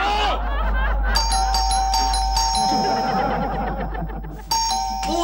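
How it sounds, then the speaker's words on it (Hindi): A two-tone electronic doorbell chimes repeatedly, several bright ding-dong rings spread through the clip over background noise, in a Hindi sitcom home scene. "कब से डोरबेल बज रही है, दरवाजा क्यों नहीं खोलता?"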